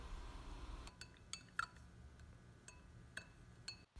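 A utensil stirs a honey and oats facial cleanser mixture in a container, giving faint, sparse clinks and light taps against the vessel, quiet and close with no talking.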